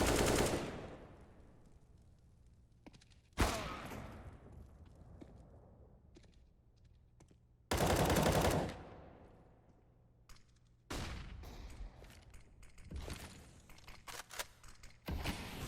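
Gunfire from a Counter-Strike match, including AWP sniper rifle shots: a few loud, sharp blasts and bursts spaced several seconds apart, each ringing out and decaying, with quieter in-game ambience between.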